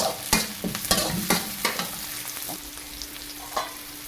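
Garlic and tomatoes sauté for pinakbet in a pan, a close sizzle broken by repeated scraping and clacking strokes of a stirring utensil that ease off toward the end.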